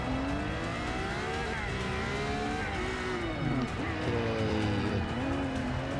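Racing cars in Forza 6, including a Bugatti, roar with rising and falling engine pitch through gear shifts and acceleration, loud and continuous, while a player briefly speaks over the game.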